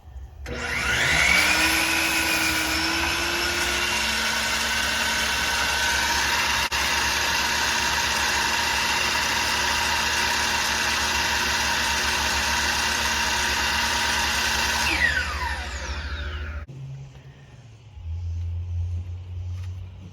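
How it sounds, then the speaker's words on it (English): A big DeWalt saw powered from an All Powers S2000 power station cuts through a board, a loud steady whine that runs for about fifteen seconds, then winds down and stops, with low rumble afterward. "we are powering the saw, which is a big DeWalt saw"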